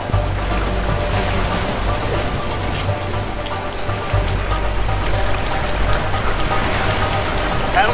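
Continuous rushing, splashing water with churning surf sounds, loud and close, as a paddled boat moves through rough water in the video game A Way Out.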